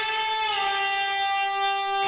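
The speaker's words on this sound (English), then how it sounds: "So it's first the jewel bend, and then the 2nd bend, release, pull off." Sustained electric guitar note from a solo, bent up and then released with a slight pitch dip before settling, rich in overtones, loud and alone.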